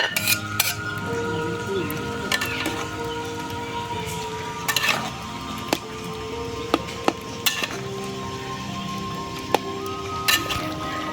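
Spice paste with tomato, chili, turmeric and salt is sautéed in a pan for a tilapia fish bharta. A utensil repeatedly clinks and scrapes against the pan over a low background sizzle, heard up close.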